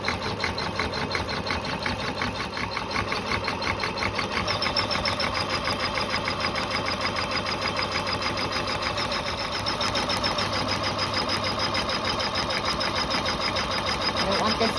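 Sewing machine stitching thin fast-dry cotton towel fabric for a bath mitt or hood, a steady rapid mechanical whir with pulsing needle rhythm running throughout, with a voice speaking over it.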